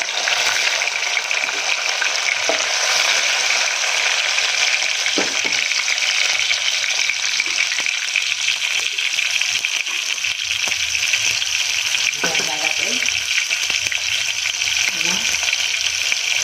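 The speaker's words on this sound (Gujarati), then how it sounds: "હવે આપણે એમાં ટામેટું એડ કરી દઈશું ઝીણું સમારેલું" Finely chopped tomato fries in a pan while a potato and cowpea curry is cooked, a steady close sizzle with occasional stirring scrapes and a voice talking over it.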